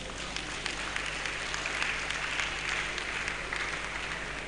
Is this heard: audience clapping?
yes